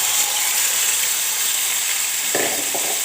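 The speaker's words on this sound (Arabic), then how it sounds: "هبدا انزل بقى بالكبد والقوانص" Chicken liver and gizzards sizzle loudly in hot oil with onion in a pan, a bright, steady hiss with a few brief crackling bursts near the end.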